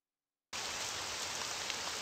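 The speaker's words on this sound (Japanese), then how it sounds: "雨が降ってていい雰囲気出てるわね" Steady rain pours in a horror school video game at night, a constant broadband hiss that starts abruptly after half a second of silence and holds evenly, with no voices.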